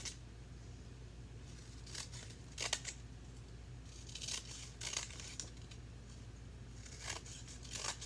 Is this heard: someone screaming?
no